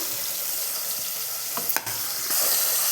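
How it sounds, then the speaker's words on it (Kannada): Chopped onions and green chili sauté in hot oil, a steady close sizzle with a few scraping stirs of the spoon, and the frying grows a little louder near the end. "ಅದನ್ನು ನೀಟಾಗಿ ಎಣ್ಣೆಲಿ ಬಾಡಿಸ್ತಾ ಇದ್ದೀನಿ"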